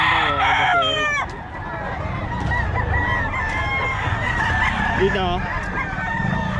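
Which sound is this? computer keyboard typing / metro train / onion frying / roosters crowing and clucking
roosters crowing and clucking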